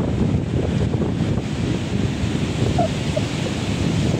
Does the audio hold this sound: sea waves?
yes